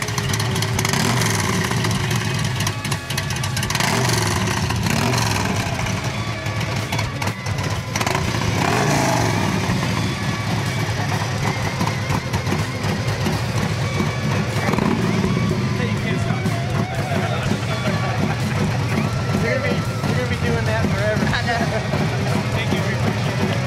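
A Harley-Davidson Softail motorcycle with engine work and a cam swap runs loud and close, rumbling steadily and revving throughout, while people talk over it.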